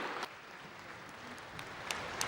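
Steady applause from a crowd in the Ukrainian parliament for President Volodymyr Zelensky, a dense continuous patter of clapping at moderate distance with a few sharper claps standing out.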